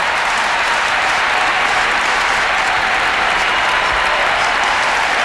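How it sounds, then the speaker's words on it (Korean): A packed indoor arena crowd at an exhibition tennis match between Maria Sharapova and Venus Williams gives sustained, loud applause and cheering that fills every second without a break. "관중들 박수와 함께 뜨거운 환호로 환영을 해주고 있습니다"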